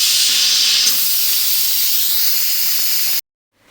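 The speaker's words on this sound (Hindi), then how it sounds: "इसका प्रेशर हम रिलीज़ कर देंगे। प्रेशर रिलीज़ हो जाएगा तो फिर हम इसमें तड़का लगा देंगे।" Loud, steady steam hiss from a pressure cooker of lentils (red kidney beans) being vented, running continuously for about three seconds and then cutting off abruptly to silence.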